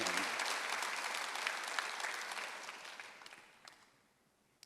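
Church congregation applauding during a Sunday worship sermon at a Korean church, a dense steady clapping that fills the room and then gradually fades out toward the end.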